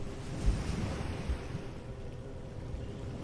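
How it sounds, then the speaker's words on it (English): Ocean waves roll steadily onto a moonlit shore, a low continuous wash of surf mixed with a faint breeze. "the sea rolls steadily beside you"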